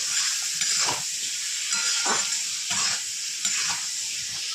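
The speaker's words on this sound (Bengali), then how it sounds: "একটু ভেজেই চালটা দেবো।" Gobindobhog rice frying in a pan with salt and ginger-garlic paste for muri ghonto, a steady close sizzle with a few soft stirring scrapes, no voices.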